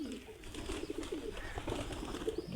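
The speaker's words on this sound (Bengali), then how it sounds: "এগুলা পাকিস্তানি জাতের কবুতর, খুব সহজেই পোষ মানে" Large Pakistani-breed pigeons coo in low, throaty repeated calls, several birds overlapping close by in a continuous murmuring chorus.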